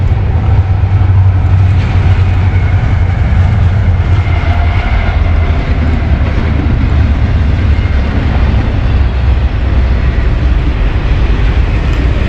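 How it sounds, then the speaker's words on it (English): A large train rumbles past close by, a loud continuous low roar of wheels and engine holding steady throughout. "But Mr. Large, there's the train. It's a big one too."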